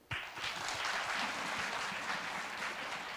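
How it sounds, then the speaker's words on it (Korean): Audience applause at a Korea University student event, breaking out abruptly and holding steady as a dense, sustained wash of clapping from a crowd for about three seconds. "박수."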